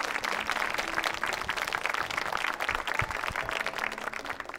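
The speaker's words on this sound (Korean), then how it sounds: "여러분 박수 부탁드리겠습니다" Wedding guests applauding after the couple read their marriage vows, a steady wash of clapping from a sizable crowd that holds throughout at even loudness.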